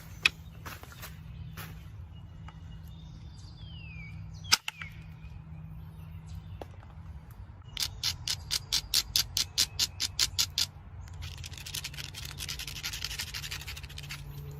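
Onondaga chert is worked by flint knapping, with its edge ground and then pressed with an indirect punch. Faint scraping leads to one sharp crack, then a quick row of about a dozen dry, rhythmic clicks and a soft gritty rasp, all close up.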